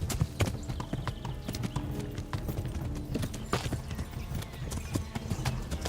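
Horse hooves clip-clop steadily and loudly in Kingdom Come: Deliverance, a brisk continuous rhythm of hoof strikes with occasional whinny-like tones and busy background layers, no speech over it.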